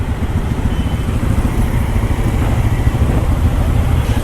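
A Hero Extreme 160 4V motorcycle engine runs nearby with a steady low, throbbing rumble at even loudness, no voices over it.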